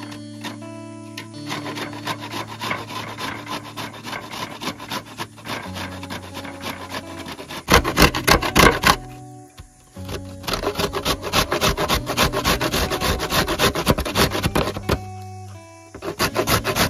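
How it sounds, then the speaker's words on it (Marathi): Raw mango scraped against a hand grater makes rapid rhythmic rasping strokes, close and crisp, with a short pause midway before the steady grating resumes over faint background music. "तर किसणीवरती मी घासून घेते फक्त।"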